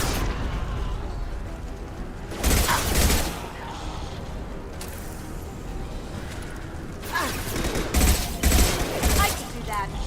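Heavy weapons fire in the sci-fi shooter Mass Effect 2, sounding as loud, crackling bursts of rapid shots in separate volleys, one early and several clustered toward the end, over a low background rumble with mechanical noises between.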